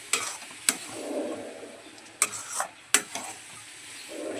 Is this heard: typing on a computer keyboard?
no